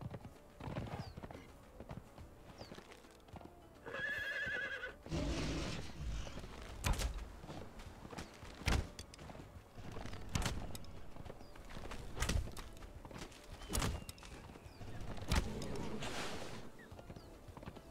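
In Conan Exiles, a horse's hooves clip-clop in an uneven rhythm, with sharp individual hoof strikes over quiet game ambience and a brief whinny-like burst near the start.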